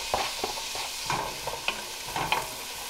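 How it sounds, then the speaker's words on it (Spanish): Onion frying in melted butter in a pan, a steady soft sizzle with scattered spatula scrapes and stirring taps throughout. "Y aquí dentro vamos a colocar la cebolla."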